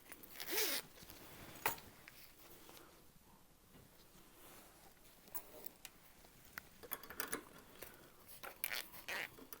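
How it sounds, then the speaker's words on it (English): Zipper pulls being slid onto zipper tape while sewing a handbag, giving quiet scratchy clicks and rasps in scattered short bursts, close by and faint, with no talking. "Adding my zipper pulls to my zipper tape."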